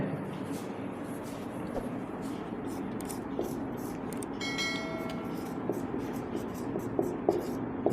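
Pen on paper writing out a definition by hand, a steady soft scratching that runs through the whole stretch with faint background noise and a few light taps.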